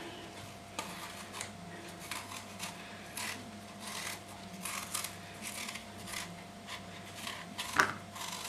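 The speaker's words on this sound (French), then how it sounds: "On va les éplucher." Apples being peeled by hand for a Normandy apple tart, a series of short scraping, rasping strokes repeated at an uneven pace, close up and without talk.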